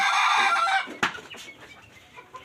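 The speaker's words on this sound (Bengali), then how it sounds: "এখানে দেখুন কতটা মুরগি" Free-range chickens roaming outside a home make loud, close clucking and squawking for the first second, then a sharp cry followed by scattered quieter clucks and rustling.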